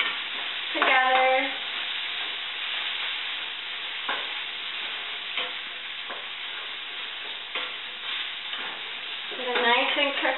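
Mushrooms frying in a pan sizzle steadily while a utensil stirs and scrapes through them, with occasional louder clatters and bursts of stirring, close up and with no talking.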